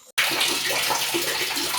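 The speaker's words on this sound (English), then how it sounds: "The same small drops of water were able to fill up that basin." Water pours steadily into a basin, a continuous, fairly loud rushing splash that starts abruptly after a brief quiet moment and holds even throughout.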